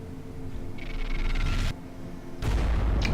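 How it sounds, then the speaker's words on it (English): A stick bomb goes off in the game Regicide, a loud booming blast with crackling debris that cuts off, then a second heavy burst follows near the end, with no talking. "Stick bomb incoming!"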